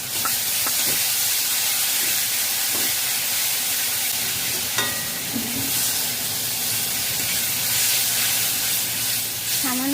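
Water poured into a pan of chilli, cumin and turmeric powders with sweet white mustard paste sets off a loud, steady hiss and sizzle that runs the full length, with faint clinks of stirring on top.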